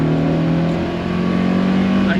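Engine of a classic BMW 2002 Touring running steadily with a throaty, even hum that rises slightly, close by, while people talk over it.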